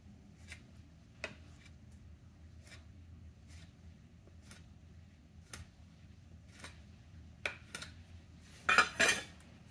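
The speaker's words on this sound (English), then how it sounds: "my teaspoon was just like falling into the bottom of this very large container" A metal teaspoon drops into a very large container and rattles against its bottom in a kitchen while shaping milk bread rolls, faint scattered clinks and taps ending in a louder clattering burst near the end; no one speaks.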